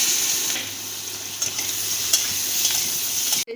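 Capsicum fries in butter in a hot wok with an even, close, hissing sizzle, broken by a few faint stirring touches and a brief clunk at the end.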